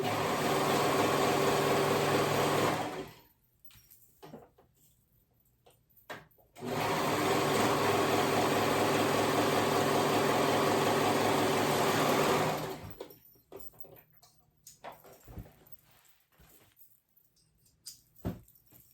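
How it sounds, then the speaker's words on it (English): A sewing machine whirs steadily in two long runs as it stitches the raw edge of a leggings crotch seam, close up, separated by a quiet pause and followed by soft handling clicks. "I am going to go ahead and sew those out, that raw edge together."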